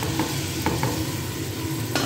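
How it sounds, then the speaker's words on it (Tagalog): Tomatoes and garlic stirred in a frying pan, a steady close sizzle broken by a few sharp utensil scrapes and taps, with no one speaking. "Haluin lang natin"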